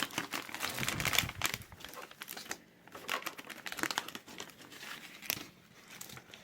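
A plastic packet from a Traxxas Slash LCG inner fender and mudguard kit being emptied, with bursts of close crinkling and rustling broken by short pauses.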